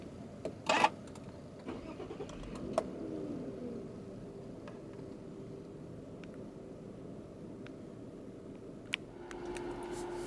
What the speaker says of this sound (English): let's start it up with the door closed